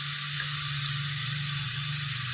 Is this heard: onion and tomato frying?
yes